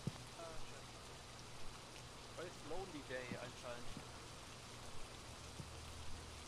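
Steady rain in the video game Phasmophobia hisses with scattered drops, while a voice talks quietly underneath.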